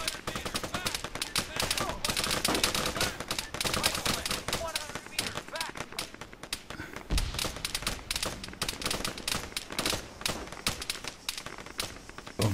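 Gunfire rattles through an Arma 3 combat mission in dense bursts of rapid shots and scattered single cracks, loud and continuous for the whole stretch with brief lulls.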